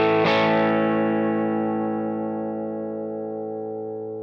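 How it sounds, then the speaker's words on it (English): A single electric guitar chord rings out through an amplifier, struck once and sustaining with a slow, smooth decay over several seconds. "Here is just guitar and amp."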